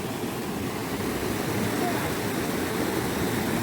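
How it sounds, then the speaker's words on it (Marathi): A waterfall near a village dam rushes in a constant, even roar, loud and unbroken from start to finish. "तुम्ही बघू शकताय एकदम ना धबधबा वगैरे पडतात"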